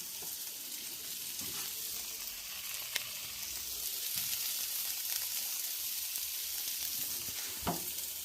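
Smash burgers of half wild pork and half deer sizzle on a hot surface in a steady, moderate frying hiss, with occasional scrapes and clicks.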